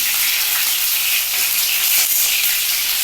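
Potatoes dropped into a hot pan of oil for a chilli and potato curry, frying with a loud, steady close-up sizzle and hiss throughout.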